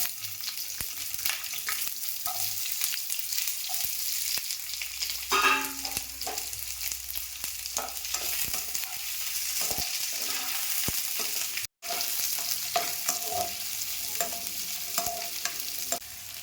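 Three chopped onions sizzle and crackle steadily in hot oil, with occasional stirring scrapes and clinks of a spoon against the pan.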